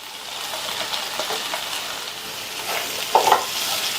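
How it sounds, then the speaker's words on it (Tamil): Round slices of peeled radish sautéing in masala over low heat, a steady soft sizzle with gentle stirring scrapes and one brief louder clink near the end, close by. "இந்த மசாலாலையே முள்ளங்கியை 2லேருந்து 3 நிமிஷத்துக்கு நல்லா சிம்மில் வச்சு வதக்கி விட்டுக்கோங்க."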